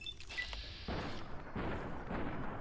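A 9mm pistol firing during a targeted VATS attack in Fallout: New Vegas, two or three fairly faint booming shots spaced out with a dull rumbling tail.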